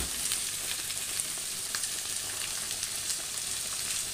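Shredded carrot and cabbage frying in oil in a pan, a continuous close, even sizzle with faint crackles and no talk.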